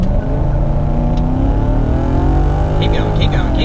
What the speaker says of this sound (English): I'm just going to accelerate and try not to wheel spin too much